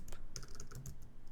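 Quick, light clicks of typing on a computer keyboard, a short irregular burst of keystrokes close up and fairly quiet.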